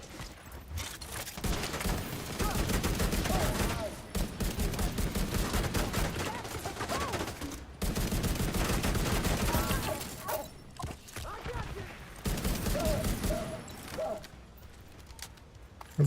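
Rifle fire in a shooter video game, long rapid strings of shots in several sustained bursts separated by brief pauses, loud and close.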